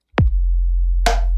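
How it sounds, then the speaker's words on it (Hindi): An FL Studio beat pattern plays a punchy kick into a sustained, deep 808 sine bassline, then a bright, noisy snare hit about a second later, loud and without any talk. "ये मेरी किक है, ये मेरी बेस लाइन है, ये मेरी स्नेयर है, बहुत ही बेसिक है, एक बार पहले सुन लेते हैं"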